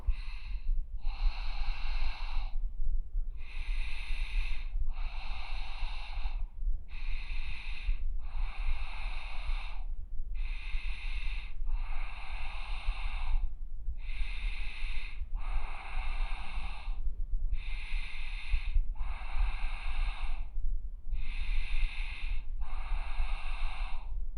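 Repeated deep breaths during standing yoga side bends, about a dozen airy inhale-exhale bursts in a steady rhythm, close and fairly loud over a low room rumble, with no talking.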